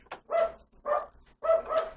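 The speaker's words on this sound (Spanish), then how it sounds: "La voy a dejar ladrar porque acaba de salir de una cirugía y me alegra verla así ladrando" A female dog recently out of surgery barks in short bursts, about four sharp barks spaced irregularly over two seconds, close and clear with no talk.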